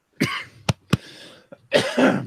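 A few coughs and throat-clearing sounds, close and fairly loud: a rough burst, two sharp short coughs, a small one, then a longer hacking cough.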